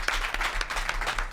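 A studio audience at a hockey talk show applauds, a brief, steady burst of clapping that fills the room at moderate loudness.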